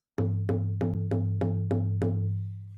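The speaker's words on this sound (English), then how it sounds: "the drum beat is like this." A deep, resonant shamanic frame drum struck in a steady, even beat of about seven hits, each ringing into a sustained low boom that fades at the end.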